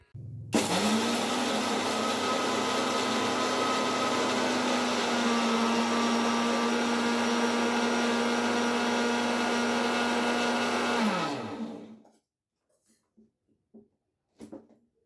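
Mixer grinder grinding roasted chickpeas into sattu flour, a loud steady motor whine with a harsh whirring rush that runs about eleven seconds, then winds down and stops, leaving a few faint clinks.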